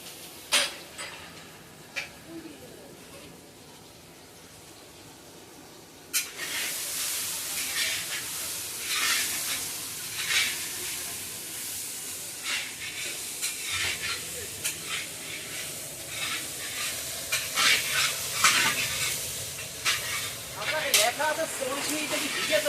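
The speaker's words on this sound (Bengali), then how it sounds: "এখন দিয়ে দিচ্ছি জিরে ও লঙ্কার গুঁড়ো এবং আদা পেস্ট।" Cumin, chili powder and ginger paste fry in a large pan of oil for a 200-person feast. The sizzle starts quietly, then jumps to a loud, steady hiss with crackles and utensil clinks, under occasional talk.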